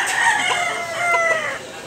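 Roosters crow and cluck close by, with bright, strained calls rising and falling over about two seconds and no talk.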